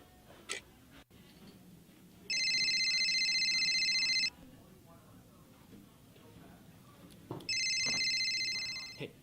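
A mobile phone rings in two loud bursts of an electronic ringtone, the first lasting about two seconds and the second coming back near the end, with faint room noise and a few small clicks between them.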